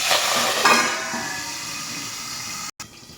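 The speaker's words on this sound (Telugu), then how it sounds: "ఆయిల్ అయితే వేడైంది మనకి ఫస్ట్ మెంతి కూర వేసుకోవాలి" Fenugreek leaves hitting hot oil in a pan, a loud burst of sizzling at the start that settles into a steady frying hiss, with a brief dropout near the end.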